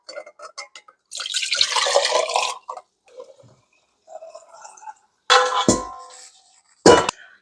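Rabbit broth poured into clean glass jars in a home kitchen, with short bursts of pouring liquid, light drips and a couple of sharp glass clinks between quiet gaps.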